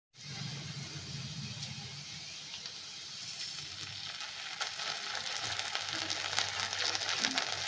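Vegetables and noodles for white chow mein fry in a pan, a steady sizzling hiss that grows slightly louder and busier toward the end, with faint scraping and no clear talk.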